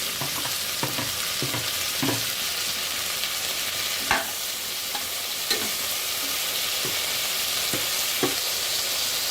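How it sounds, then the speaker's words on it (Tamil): Tomatoes sautéing in a pan for a fenugreek rice dish, a constant sizzle broken by about a dozen scraping stirs of a spoon at uneven intervals, close and fairly loud, with no talk. "நம்ம தக்காளி சேர்த்து நல்லா வதக்கிக்கலாம்"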